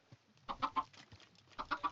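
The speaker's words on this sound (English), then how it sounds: "This sort of golden one, I think is the desert chicken." A desert chicken in the video game Desolate Planet clucks in two quick clusters of three or four soft, close clucks, separated by a short pause, over a quiet background.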